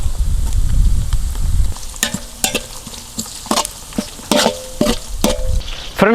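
Onions and mint sauté in a pan for chicken biryani, a loud close sizzle at first, then repeated scraping stirs and spoon knocks against the pan over continuing frying.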